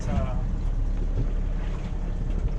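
Steady wind buffets the microphone with a low roar on an open Okanagan lake while trout fishing, a constant rumbling gust throughout.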